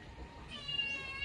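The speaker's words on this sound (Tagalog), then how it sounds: "Ang ingay ng pusa namin." A household cat meows loudly and close by, a short rising cry that stands out over a low indoor background.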